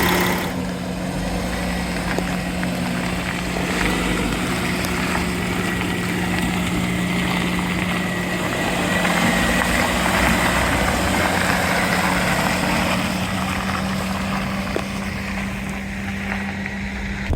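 Steady, low idle-like engine drone from a Porsche Cayenne diesel as it gets going, an even, continuous hum with a constant tone and no talking.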